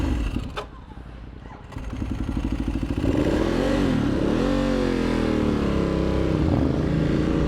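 A Vyrus motorcycle engine idles roughly, then picks up into a steady, loud drone with a shifting pitch as the bike is ridden, with clattering mechanical texture close by.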